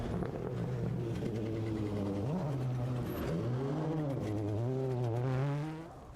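A rally car's engine roars steadily nearby, its pitch rising and falling as the car revs and shifts gears, building toward a loud approach before easing off.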